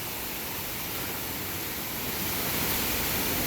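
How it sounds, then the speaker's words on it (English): A Hawaiian waterfall roars as a continuous, full-bodied wash of falling water that swells slightly louder toward the end, with no voices over it. "we're looking at one of the really cool waterfalls"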